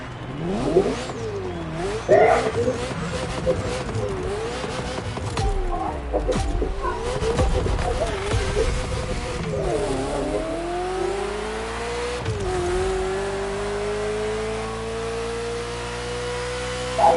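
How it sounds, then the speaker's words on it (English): A Ferrari F40 engine in a racing video game revs and shifts repeatedly, its pitch climbing and dropping through gears, then settles into a long rising drone of sustained acceleration, loud and close. "Ferrari F40, second vehicle of the manufacturer to earn the prestigious supercar status"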